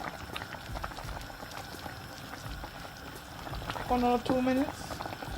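Okra and pumpkin boiling over a high flame for coucou, a steady close bubbling hiss running throughout while someone talks over it.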